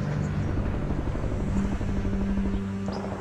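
A helicopter in the strategy game Codex of Victory gives a continuous rotor thrum with a fast rhythmic chop and engine whine, steady and fairly loud throughout, with no voices over it.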